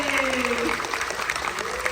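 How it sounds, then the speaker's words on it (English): Lively applause from a science museum audience for a young volunteer at a live demonstration show, continuous and full, with a presenter's voice carrying over the start. "Colt, round of applause for Colt, everybody!"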